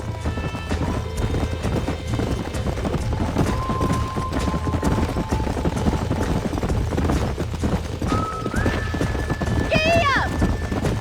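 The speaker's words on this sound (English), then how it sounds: "These are fine horses." Horses in Red Dead Redemption clatter along in a steady hoofbeat rhythm under an open outdoor ambience, with a whinny rising near the end and a few tonal calls drifting over the scene.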